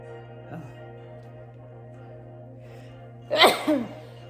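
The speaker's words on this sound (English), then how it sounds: "I gotta sneeze." One sharp human sneeze bursting out near the end over a steady low hum, close and loud after a quiet stretch.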